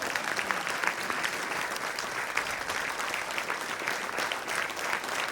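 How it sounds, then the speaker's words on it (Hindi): Strong, sustained audience applause fills the space after a stage performance in Hisar, Haryana, a dense steady roar of many hands clapping from start to finish with no voices over it. "एक बार जोरदार तालियां हो जाए इस प्रस्तुति के लिए"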